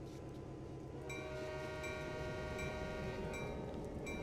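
Steady low rumble of a heavy train engine with a faint horn tone, as a Canadian National train begins rolling slowly in the video game Train Sim World 2020; no voices.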